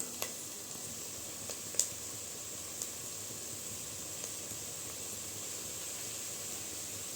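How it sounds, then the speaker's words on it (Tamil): Onions frying in a little oil in a pan while a Tamil-style meal maker gravy is cooked, a steady close sizzle and hiss with a few faint clicks of stirring. "லைட்டாக எண்ணெய் சேர்த்து வறுத்து எடுத்துக்கலாம்"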